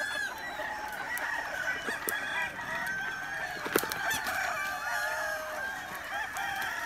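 Roosters crow repeatedly across a farm full of cockerels, with scattered clucking and other fowl calls layered over a steady outdoor background.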